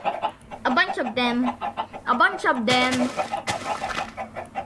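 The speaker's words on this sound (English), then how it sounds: "There, put some chickens." Several chickens cluck and squawk in short bursts in Minecraft, fairly close. A voice speaks briefly between the calls.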